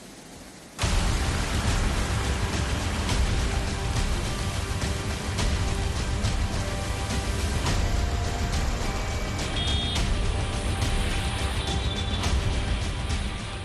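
Heavy monsoon rain pouring down in Delhi-NCR, a dense, steady roar that starts abruptly and then stays loud and unbroken, with no voices over it.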